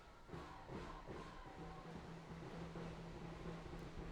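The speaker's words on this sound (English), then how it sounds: "Both crowds are getting very loud, anticipating the next move from both teams." Rugby crowds at a JIS versus ISKL school match chant and sing in rhythmic, repeated bursts, heard at a moderate distance and fairly soft.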